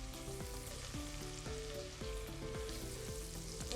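Onions fry in a pan with a dense, steady sizzle, close and moderately quiet. A low, repeated stepped hum runs underneath and no one speaks.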